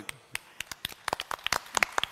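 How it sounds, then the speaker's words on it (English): A conference audience at a gaming summit in Malta gives a short round of applause after a speech, sparse, distinct claps building to a quicker patter. "Round of applause"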